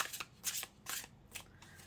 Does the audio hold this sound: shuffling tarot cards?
yes